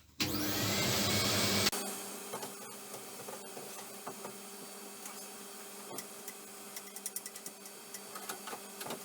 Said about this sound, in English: So next thing I'm going to do is give it a good hoover.